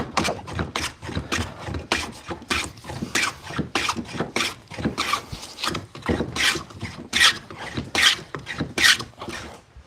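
A split chestnut workpiece is flattened by hand with no power tools, giving a rhythmic series of rasping strokes, close and fairly loud, repeated steadily with short pauses between pushes.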